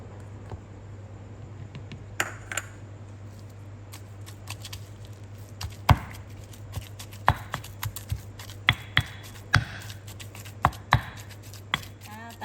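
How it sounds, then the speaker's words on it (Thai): A stone mortar and pestle pounds turmeric, shrimp paste and curry paste together for a Thai stir-fry, giving irregular sharp knocks and thuds, close and moderately loud, over a steady low electrical hum. "ลงไปโขกรวมกันเลยค่ะ"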